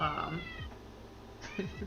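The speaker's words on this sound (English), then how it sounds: "The cats." Several cats meow faintly in the background, a few short descending cries spaced apart, with quiet voices underneath.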